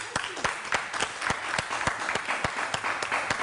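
Applause from a live audience, with a mix of scattered and overlapping hand claps forming a steady patter, some sharp single claps standing out near the listener.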